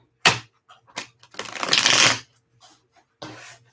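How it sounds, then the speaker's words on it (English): Tarot cards being shuffled by hand in bursts: a sharp riffle, a few soft taps, then a longer, louder riffling shuffle and one more short burst, close and clear with no talking. "Oh, I love how those shuffle."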